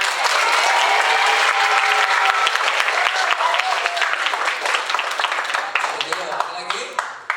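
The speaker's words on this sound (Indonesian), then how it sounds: "Oke, tepuk tangan." An audience at a one-day spiritual motivation and character-building session breaks into loud, close applause. The clapping holds strong, then thins into scattered individual claps toward the end, and a few voices come through underneath.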